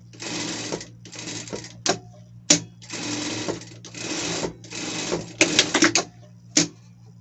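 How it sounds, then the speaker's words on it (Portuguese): Home sewing machine stitching a seam on a Chaves costume piece, running in several steady whirring bursts of about a second each, separated by brief pauses and short clicks, close and clear with no talking. "Vamos passar uma costura aqui"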